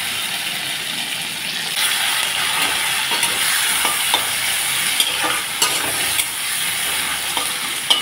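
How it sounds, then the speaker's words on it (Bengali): Potatoes and eggplant frying in oil previously used for frying fish, a steady, moderately loud sizzle with scattered spatula scrapes and stirring knocks throughout, and no talking. "মাছ ভাজা তেলের উপরে আমি আলু বেগুনগুলো ভেজে নিচ্ছি।"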